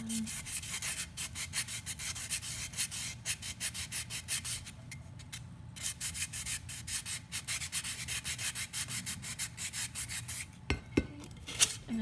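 Sandpaper rubbing steadily over a cured glitter epoxy cup, working around the top edge and lip in quick repeated strokes, close and continuous with brief pauses.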